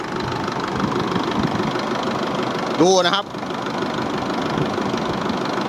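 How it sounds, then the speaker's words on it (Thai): A used, low-mileage Isuzu D-Max Super Titanium diesel engine idles with a steady, even rumble throughout, while someone speaks briefly partway through. "เสียงเครื่องยนต์ดังนิ่มมากนะครับ"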